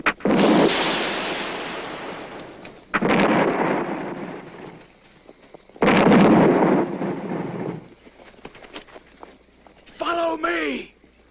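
A signal gun fired outdoors amid wind: broad bursts of blast-like noise with a rushing tail, followed later by a shouted voice, in a period-drama setting.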